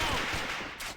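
Gunfire from a wallbang attempt in the competitive shooter AVA during a tournament demolition match, a dense burst of shots that fills the brief moment and then quickly dies away.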